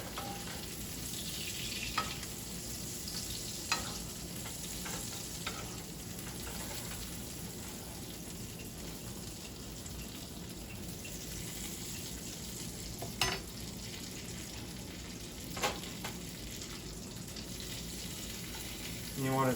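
Salmon skin-side down in a pan over medium heat, sizzling and frying steadily while being basted, with occasional spoon clinks and spatters over a constant crackle.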